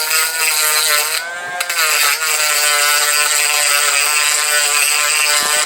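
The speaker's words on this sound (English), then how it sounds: "and then I just take the Dremel" Dremel rotary tool sanding down broken-apart parts of a HobbyZone modular workbench, a steady loud high-pitched whine with rattling, holding nearly constant with a brief dip partway through, no talking.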